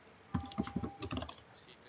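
A computer keyboard is tapped, the space bar among the keys pressed: about half a dozen quick, crisp clicks in an uneven rhythm, close by, with no talking.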